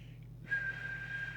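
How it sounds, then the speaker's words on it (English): A steady whistle is sent into the microphone of a CRT Xenon UK CE MultiNorm mobile CB radio during service adjustments. After a short pause it becomes one sustained, even tone that carries on alone at moderate loudness. "give it a whistle"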